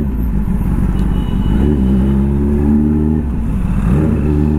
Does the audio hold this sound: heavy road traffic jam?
yes